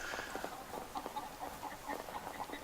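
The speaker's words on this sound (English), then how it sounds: "Chickens!" Chickens clucking in the survival game Will to Live Online, a run of short, fairly faint clucks and chirps scattered over a low ambient background.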